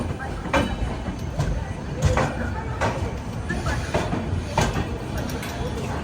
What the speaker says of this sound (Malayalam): അഞ്ചാം നമ്പർ പ്ലാറ്റ്ഫോമിലേക്കാണ് നമ്മുടെ ട്രെയിൻ വന്നത്